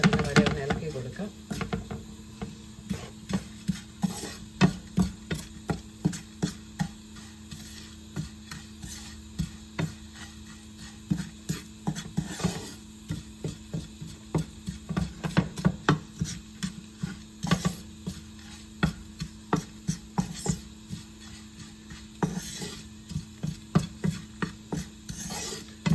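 Chili powder and turmeric masala paste stirred in a hot pan, repeated rhythmic scraping strokes close up with a faint steady hum underneath.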